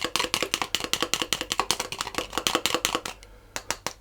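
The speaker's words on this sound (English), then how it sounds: "I'm going to just break up the egg" A utensil rapidly beats and breaks up an egg in a bowl, producing a fast, steady run of close clicking taps for a few seconds, a brief pause, then a few more strokes.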